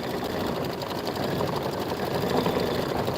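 An embroidery machine stitches a bunny-trail bench pillow border, a steady, continuous mechanical whir with fast needle chatter running loud and even throughout.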